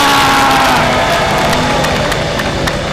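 A large crowd cheers and claps loudly, a dense roar of whoops and applause sustained throughout.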